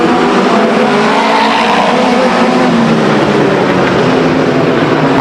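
Race cars at Stockton 99 Speedway in 1999 roar around the oval in a loud, dense, continuous engine blare, close and overwhelming, with no break in the noise.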